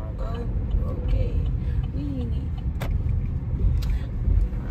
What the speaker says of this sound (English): I'm about to make this turn. And come on, car, go.